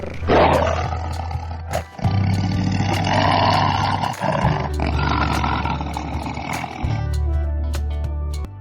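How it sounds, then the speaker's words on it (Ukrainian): A tiger lets out several loud, deep, rumbling roars close by, each lasting about two seconds with short gaps between them, with a low growling rasp under each roar. "Тигр гарчить."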